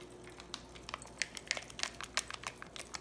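Pop Rocks candy crackles at a children's dinosaur party, scattered tiny sharp pops and snaps, faint and close, irregular in rhythm with quiet background between them.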